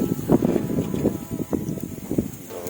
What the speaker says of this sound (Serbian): Vidite kako duva vetar.